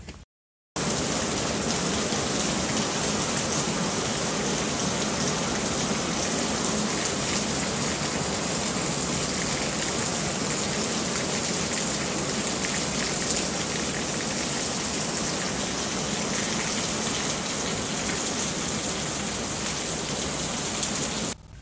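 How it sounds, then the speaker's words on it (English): Heavy rainy-season downpour in Chiang Mai, a dense, even hiss of rain hammering surfaces that runs steadily and loudly from start to finish after a brief moment of silence. "It's only like 10 seconds, but you can see that it's like pouring rain."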